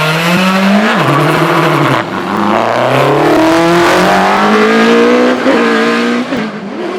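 2002 Ralt Formula 3 race car with a Cosworth BDG engine on a hillclimb, loud and close, revving hard through rising gear changes with sharp shifts and a screaming engine note.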